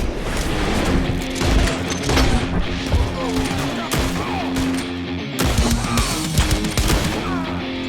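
Red Dead Redemption gunfire erupts in dense, close volleys of rapid shots and booms, with crashing impacts, brief lulls, then another heavy burst, and a voice speaking faintly underneath.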